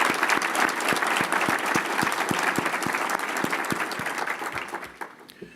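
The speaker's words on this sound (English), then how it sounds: "I think he deserves a round of applause." A full round of applause at a school district's annual State of the Schools address, honoring a retiring colleague: dense, steady clapping with sharp individual claps audible throughout, fading out over the final second.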